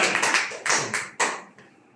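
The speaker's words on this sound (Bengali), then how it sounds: "জোরে একটা হাততালি চাই" An audience claps loudly together, a burst of sharp overlapping hand claps that swells in several quick waves, then trails off into a few scattered claps.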